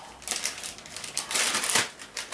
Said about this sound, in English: Now I'm going to set this in this plastic bag for about a half an hour.